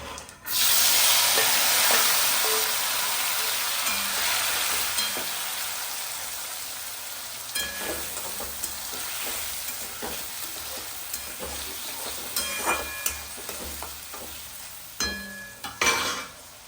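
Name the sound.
tomatoes added to sizzling pan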